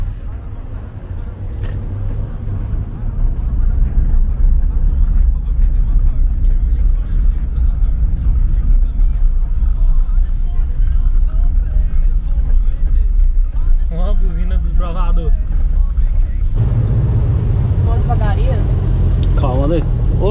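A custom VW Beetle (Fusca) drives along a street, its engine a loud, steady low rumble that swells early on and holds throughout, with brief voices talking over it near the end.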